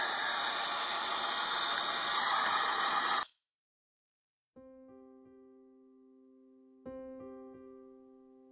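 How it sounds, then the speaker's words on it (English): A heat gun blows with a loud, steady hiss while drying art journal pieces, then cuts off abruptly, leaving silence followed by a few soft tonal sounds. "So I'm going to, I think, hit these with my heat gun."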